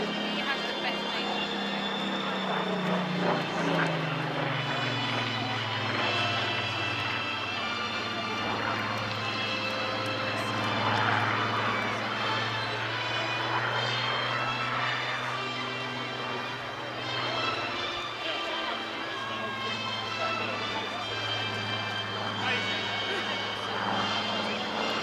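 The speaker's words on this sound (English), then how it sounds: "this Mark 19 photo reconnaissance Spitfire from the Rolls-Royce Historic Air Fleet" Rolls-Royce Griffon engine note of a Supermarine Spitfire PR XIX photo reconnaissance aircraft at a seaside airshow, a loud sustained drone with pitch slowly falling as it passes, with a commentator talking over it throughout.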